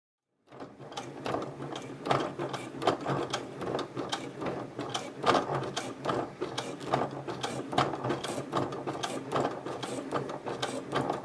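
A sewing machine stitches a clear PVC vinyl pouch with fabric binding, a steady close rhythmic run of needle clatter and motor hum that continues unbroken for about eleven seconds with no talk.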